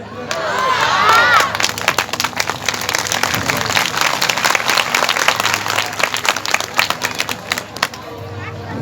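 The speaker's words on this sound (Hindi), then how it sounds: "झूठे कहीं के ताली बजा दी।" An audience at a Shiv Mahapuran religious discourse claps together in a dense, sustained round of applause, with a few voices calling out near the start. The clapping stays loud and fairly even throughout.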